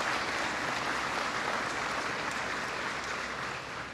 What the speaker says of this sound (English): So give a big round of applause, would you, for Cajun Industries